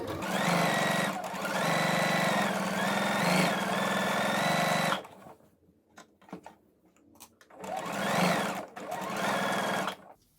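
A domestic sewing machine runs a seam around the curve of a pair of shorts in two steady bursts of rapid stitching, separated by a quiet pause filled with light handling clicks.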